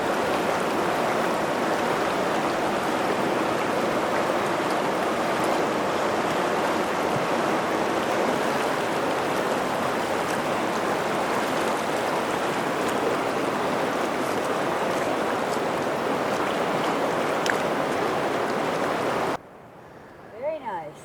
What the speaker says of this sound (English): Water's flowing pretty good.